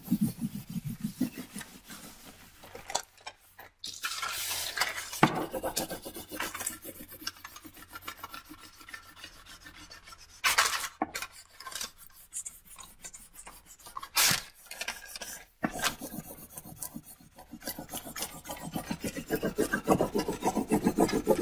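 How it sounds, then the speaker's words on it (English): Thin encaustic monotype paper is burnished onto a panel with steady, close rasping rubs that come in uneven strokes with brief pauses. "I really want to burnish every square inch of this."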